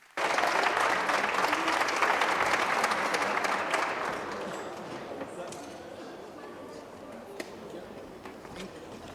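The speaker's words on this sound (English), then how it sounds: "Shall we welcome him with a big round of applause" Big round of applause from a crowd at a 60th anniversary celebration welcoming a speaker, loud clapping at first that gradually thins and softens toward the end.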